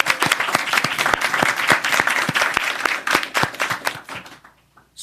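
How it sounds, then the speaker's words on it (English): An audience claps at a mayoral education announcement, loud dense applause for about four seconds that thins to scattered claps and fades out. "Let's give them all a round of applause."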